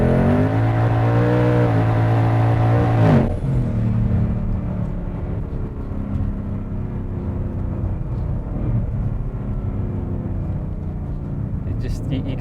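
A PR Mustang twin turbo revs hard for a few seconds, then settles into a steady engine drone while driving, with a voice talking over it.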